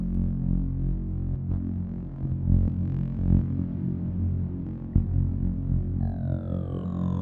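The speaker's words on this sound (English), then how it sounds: "there we go, a nice little hum" A deep, throbbing synthesizer drone hums steadily through the MagicFilter iOS app with reverb, with slow filtered movement and a reverberant wash, and faint rising tones entering near the end.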